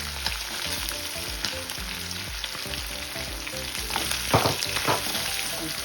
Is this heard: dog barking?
no